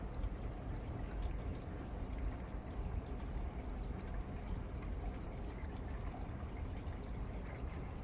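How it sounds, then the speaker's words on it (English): Water pours and splashes continuously through an aquarium overflow drain nearby, a steady rushing drain with faint trickling, no voices. "Water's coming out, so that means the overflow's back active."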